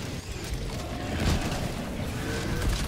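Weapon reload in the video game Helldivers 2, a cluster of mechanical clacks and ratcheting metal clicks under a steady rumble of battle noise, moderately loud and close.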